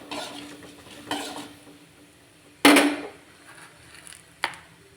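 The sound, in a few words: urad dal tempering sizzling in hot oil with mustard seeds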